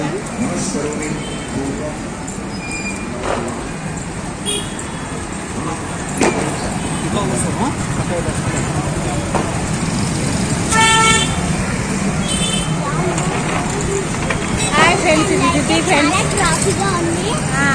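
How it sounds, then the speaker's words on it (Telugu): Busy road traffic heading toward a market, a continuous roar of engines close by with several car horns honking, some short toots and a longer blare, while people talk over it. "చాలా ట్రాఫిక్ గా ఉంది."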